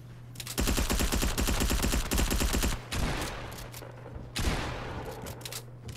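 Rapid automatic gunfire in a Fortnite match, dense bursts of shots rattling close and loud for a couple of seconds, then a pause and further scattered shots and a second burst over a low steady hum.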